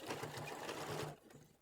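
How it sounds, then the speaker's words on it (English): A sewing machine stitches doll dress fabric in a fast, even mechanical rhythm for about a second, then stops, leaving a brief quieter tail. "move on over to my sewing machine and get those stitched in"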